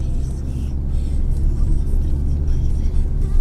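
A Lada Granta with an automatic gearbox drives slowly uphill on an uncleared winter road, its engine a steady low rumble heard from inside the cabin.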